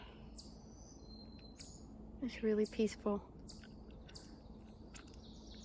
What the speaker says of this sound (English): you can hear lots of different birds